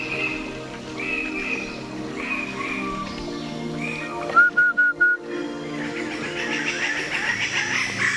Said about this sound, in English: Just the sound of canoes and birds.